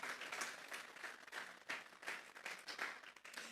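A church congregation claps in a Spanish-language service, a sustained burst of applause rising and falling in waves for several seconds, fairly distant and without speech over it.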